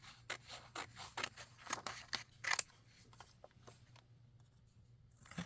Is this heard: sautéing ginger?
no